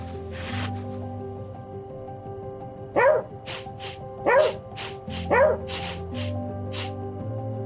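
A dog character in a video game barks three times at an even pace over a steady humming game soundtrack, with short yips at moderate volume.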